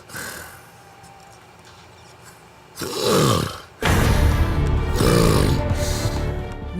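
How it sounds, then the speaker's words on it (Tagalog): Man snoring loudly, with a quieter rumbling stretch followed by long, heavy, rasping breaths that grow louder and coarser, close and unaccompanied by speech. "sa lakas ng kanyang paghilik"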